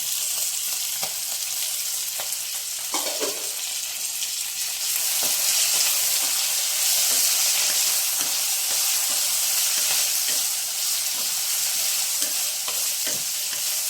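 Curry leaves, green chillies, mustard seeds and urad dal fry in hot oil for a cucumber-tomato chutney, making a steady close sizzle broken by regular spatula stirring and scraping taps.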